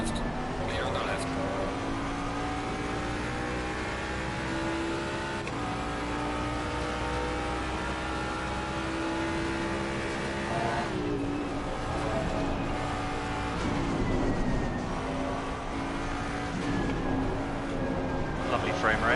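Racing cars in a video game drone and whine through engine notes that rise and fall with shifts, a steady motor sound throughout with occasional passing whooshes.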